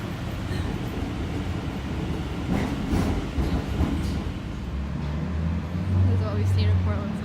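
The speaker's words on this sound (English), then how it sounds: "It's time to video this train." A train in Portland rumbling past at moderate distance, a continuous low roar with clattering wheel noise and a rising tonal hum near the end, with people's voices faintly mixed in.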